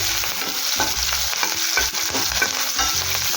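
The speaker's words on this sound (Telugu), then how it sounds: "ఆయిల్ వేడెక్కిన తర్వాత వన్ టీ స్పూన్ జీలకర్ర సన్నగా కట్ చేసుకున్నటువంటి వెల్లుల్లి అలాగే పచ్చిమిర్చి చీలకలు కూడా యాడ్ చేసేసుకోండి ఫ్రై చేసుకుందాం" Cumin, finely chopped garlic and slit green chillies fry in hot oil for a capsicum curd curry, giving a loud, steady sizzle while a utensil stirs the pan in rhythmic scraping strokes, close and without speech.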